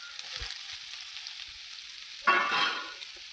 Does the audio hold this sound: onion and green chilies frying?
yes